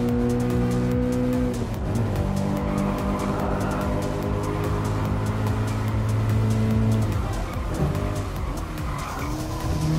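A Subaru BRZ race car in Gran Turismo Sport, its engine droning steadily at high revs, with rising and falling pitch through gear changes and tire squeal in the corners, close and continuous.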